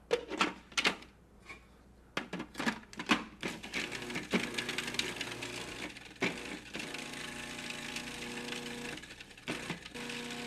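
A Cuisinart 7-cup Premier Series food processor grinds lemon zest with salt, starting with a few short pulses and then running continuously as a loud, rattling whir with no talking.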